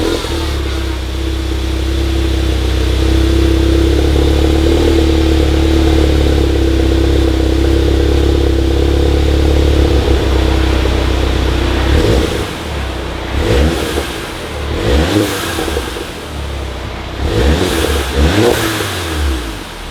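Volkswagen Mk7 GTI with its resonator deleted idles with a deep, steady exhaust drone, then blips through several sharp, loud revs that fall back between each one, heard up close with no talking.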